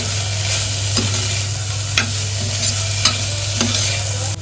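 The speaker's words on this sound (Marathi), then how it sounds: "टोमॅटो सुद्धा ना आपल्याला व्यवस्थित परतवून घ्यायचं आहे" Onion and tomato sauté in a pan, a steady close sizzle with a low hum beneath, broken by a few sharp scraping stirs of a spoon roughly once a second.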